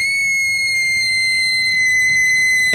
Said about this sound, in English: And she screamed and she screamed and she screamed.